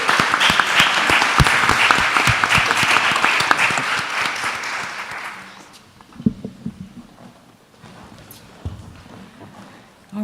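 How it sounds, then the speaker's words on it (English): Conference audience applauds panelists with a full, dense round of clapping that holds for about five seconds, then fades, leaving scattered footsteps, shuffling and a few isolated knocks in a quieter room. "So if you could join me in giving a round to our panelists today."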